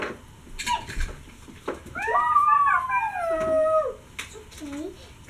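A puppy whimpering and whining in a drawn-out, wavering howl-like cry that rises and falls, fairly close, with short bursts of background voices before and after.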